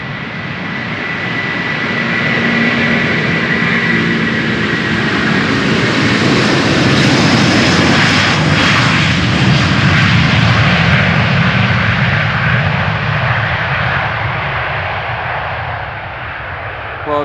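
Airplane jet engines roar during takeoff at Amsterdam Schiphol on runway 36L, a loud, broad, sustained rumble that swells and peaks mid-way, then slowly fades as the aircraft climbs away.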